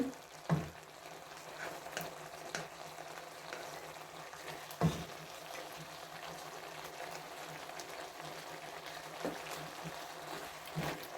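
Squid stir-frying in a pan with curry powder and egg gives a steady, moderately loud sizzle, broken by a few sharp scrapes and clacks from stirring.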